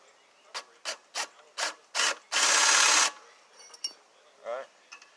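Hand ratchet clicks in short bursts while tightening bolts on a Honda Black Max pressure washer pump, with a longer continuous rasping stretch in the middle, close and clear, followed by faint handling noises and a brief voice.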